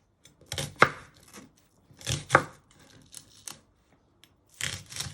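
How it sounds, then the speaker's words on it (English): A kitchen knife finely slices ingredients for a beef and black pepper noodle dish, giving three bursts of rapid, crisp chops on a board, close and fairly loud, with short pauses between. "And then you just want to finely slice them."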